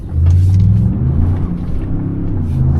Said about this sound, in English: Now I'm going to take it for a drive.